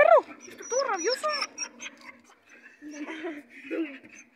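A dog whimpers in rising, high-pitched whines and yips at close range, broken by softer whimpers, while a person speaks over part of it.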